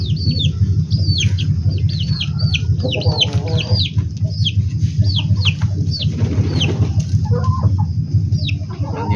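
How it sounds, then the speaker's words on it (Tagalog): Chicks peep in rapid high chirps over the steady clucking of backyard chickens close by, with some wing flapping mixed in. "Meron pa ako mga sisiw."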